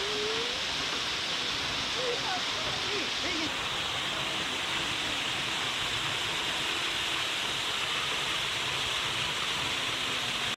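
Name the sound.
waterfall rushing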